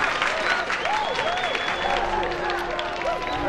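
A crowd in a film cheering and clapping at news of water, a lively blend of shouts and applause with voices rising above the noise throughout.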